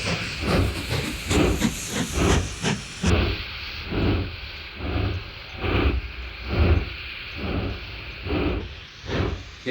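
A steam train in the video game Mashinky chuffs in a steady, loud rhythm of hissing exhaust bursts, about one per second, continuing throughout without speech.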